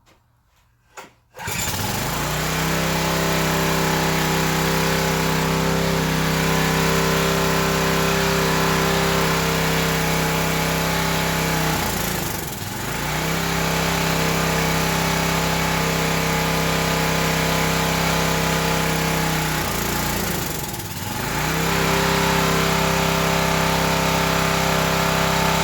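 An old Craftsman pressure washer's small engine runs on choke at high throttle, a loud steady buzzing drone that sags twice in pitch as if about to stall, then recovers; it starts abruptly after a short quiet moment.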